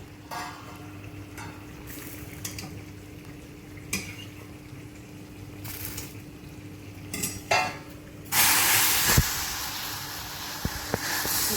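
Masala pav cooks in a pan with scattered scrapes and clinks of a spatula over a low hiss, then a louder, sustained sizzle swells near the end as butter and bread hit the hot surface.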